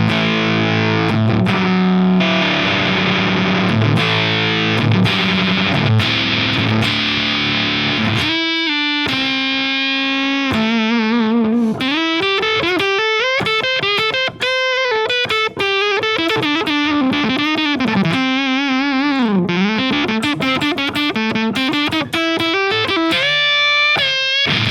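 Electric guitar played through a Tone Bender fuzz pedal. It produces loud, saturated distortion, first as chugging chords and then as sustained, bending lead notes and riffs with no talking.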